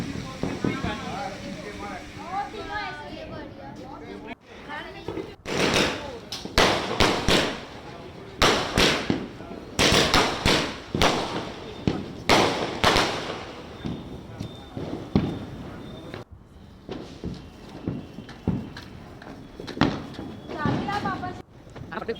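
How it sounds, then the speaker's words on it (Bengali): Firecrackers bursting at a Kali Puja celebration, a string of sharp loud bangs and crackles in irregular bursts, some close and some farther off, with people talking and exclaiming throughout. "বাজি ফাটানো কমপ্লিট"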